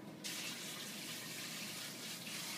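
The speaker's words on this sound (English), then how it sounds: "Let me rinse my fingers real quick." Tap water runs steadily into a kitchen sink while fingers are rinsed, a close, continuous hissing splash that begins abruptly and holds without a break.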